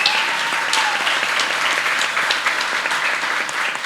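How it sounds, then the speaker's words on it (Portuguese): Audience applause for the guests at a Wednesday church gathering, a steady, dense clapping that fills the room, loud and continuous without any talk over it. "Queria uma salva de palmas"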